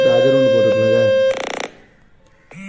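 Speaker-cleaning vibration tone from a Fix My Speaker website on a mobile phone, a loud sustained buzzing tone that breaks into a rapid pulsing rattle, fades, then returns briefly.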